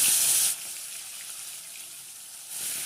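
Rui fish pieces sizzle in hot oil in a kadai, a steady bright crackle that flares loudly at first, settles to a softer hiss, then rises again.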